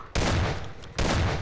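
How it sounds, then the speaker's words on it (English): Two heavy booming blasts from a shotgun in Garry's Mod, fired roughly a second apart, each loud and close with a long rumbling tail. "And it's a shotgun. And it doesn't have a reload animation."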